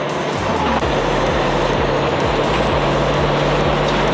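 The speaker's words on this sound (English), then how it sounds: "I love the turbo whistle, it's so good." A truck engine rumbles loudly and steadily up close, with a faint high turbo whistle rising slowly above the drone.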